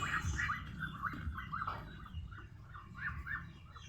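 Several roosters, a batch of fifteen being delivered, cluck and call in short repeated bursts at moderate distance over a steady low rumble of background noise.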